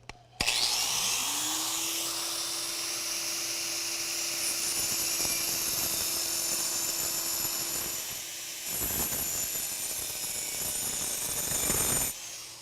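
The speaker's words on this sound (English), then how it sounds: "Brad's going to chase me with the vacuum" Shop vacuum roaring steadily while a power saw cuts during pool construction work, a loud continuous whine that runs for the whole stretch with the motor pitch shifting near the end.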